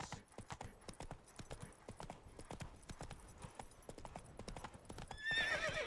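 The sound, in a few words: horse Roach galloping, from video game Witcher III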